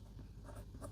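Pen or marker writing out a maths equation, a brief soft scratching of strokes close by over a low background hum, with no talking.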